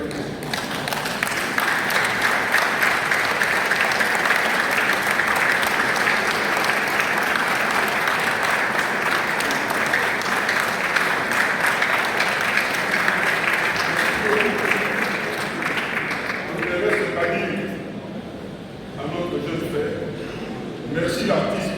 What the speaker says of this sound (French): Je voudrais demander à tout le monde de se mettre debout et encore une fois applaudir frénétiquement ce qui nous a fait.